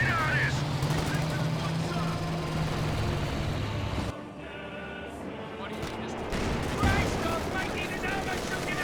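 Gunfire and battle noise from Company of Heroes 2, including MG42 machine gun fire, roars loud and dense for about four seconds. A brief lull follows before heavy shooting and explosions swell again toward the end.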